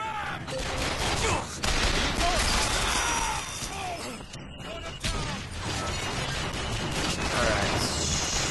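Cannon gunfire in Bioshock Infinite crackling in dense, rapid bursts with metallic clanks and crashes, loud and continuous with faint voices underneath.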